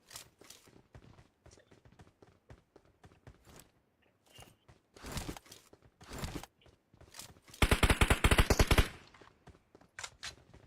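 Gunfire in GTA 5, scattered single shots and short bursts with a sustained loud automatic volley near the end, quiet gaps between.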